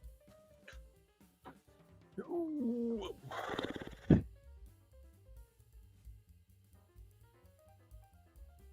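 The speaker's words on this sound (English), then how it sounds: "I don't know if you can hear that barking." A dog barks and whines in a short burst of a few loud yelps near the middle, with quiet room noise before and after.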